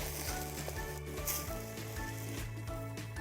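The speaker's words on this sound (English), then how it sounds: "Then we add in our broccoli. Give it a good stir." Broccoli stir-fries in a pan with stir-fry noodles, a loud, continuous crackling sizzle broken by quick scraping stirs, close up with no talking.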